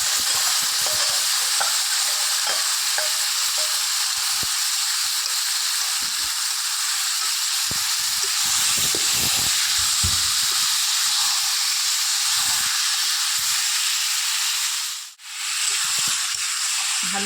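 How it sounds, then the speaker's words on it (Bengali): Marinated chicken hits a hot pan for a restaurant-style chicken kosha, giving a loud, continuous bright sizzle and hiss with occasional stirring scrapes, nearly uninterrupted throughout. "তারপরে ম্যারিনেট করা মাংসটা এর মধ্যে দিয়ে দিচ্ছি"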